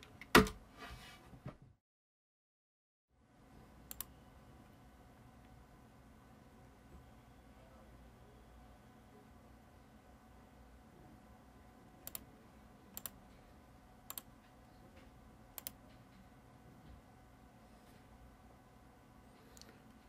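Sparse, faint clicks of a computer keyboard as a domain name is typed into a search, a handful of separate keystrokes over a low, steady room hum.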